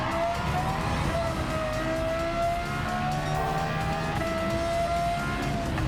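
A minivan races in Gran Turismo 7, its engine droning steadily with a rising and falling whine, close and continuous, amid faint tire noise from the surrounding race.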